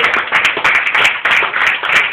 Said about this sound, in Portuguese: Se puder aplaudir a palavra de Deus.